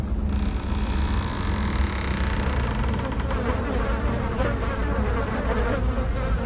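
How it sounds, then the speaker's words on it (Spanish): A thick swarm of flies buzzes steadily and close, a dense continuous drone that fills the whole stretch with no voices over it. "salió una gruesa nube de moscas acompañada de un pestilente y nauseabundo olor"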